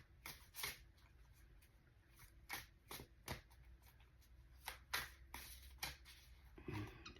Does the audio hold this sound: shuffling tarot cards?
yes